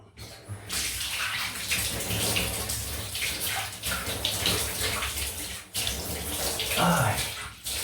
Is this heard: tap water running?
yes